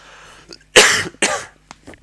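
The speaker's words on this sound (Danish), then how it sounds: "Så er jeg i gang igen med at hoste" A man coughs twice, harsh and loud right at the microphone, followed by a couple of smaller throat sounds.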